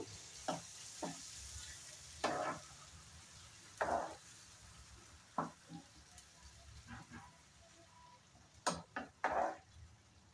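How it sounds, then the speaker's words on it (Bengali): Spice paste cooks with potato and soybean in a pan, with quiet sizzling under scattered spoon stirs and clinks that come in short irregular bursts, close and fairly soft. "আলু আর সয়াবিনের সাথে এই মশলার পেস্টটা আমি খুব সুন্দর করে একটু সময় রান্না করে নেব।"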